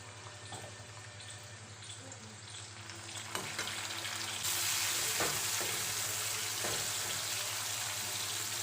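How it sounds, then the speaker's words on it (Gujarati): Sizzling and stirring from potatoes frying in a pan as tomato is added for a Punjabi-style okra and potato curry, a steady close crackle that swells louder partway through, with a few clinks of a spoon and no voices. "હવે આપણે એમાં એડ કરીશું ટમેટું જે લાંબી સાઇઝમાં કટિંગ કરી અને મેં લીધેલું છે"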